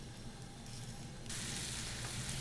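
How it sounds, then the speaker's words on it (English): Shrimp sauté in spring onion pesto in a sauté pan, giving a steady, close sizzle. The sizzle jumps louder and brighter about halfway through, with no talking. "in this saute pan I'm cooking a little shrimp in my spring onion pesto"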